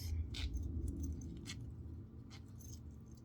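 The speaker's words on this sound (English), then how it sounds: "So here is my zipper and my zipper pull." A metal zipper and zipper pull are handled, giving a few light metallic clinks and jingles spaced irregularly over a soft low background rumble, close and quiet.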